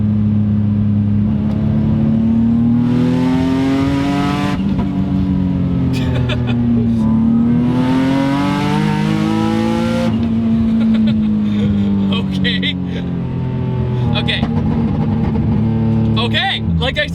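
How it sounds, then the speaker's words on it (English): A 540 hp single-turbo Nissan 350Z HR with a VQ engine accelerating hard, revs climbing and falling through gear changes, loud and close with a driver talking throughout. "the VQs have a completely different sound when you put a turbo on them"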